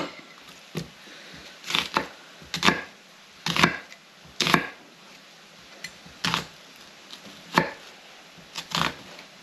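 Knife slicing through bacon on a cutting board, heard as about a dozen sharp, close cuts at an uneven rhythm, each a brief crisp thud and scrape with near silence in between and no talking.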